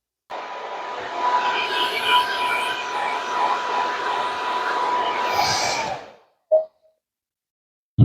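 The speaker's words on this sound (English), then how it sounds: "I'm going to use a blow dryer just on low and get this all the way dry" A blow dryer on a low setting runs steadily for about six seconds, drying a furniture transfer, then clicks off, leaving near silence with a brief knock afterward.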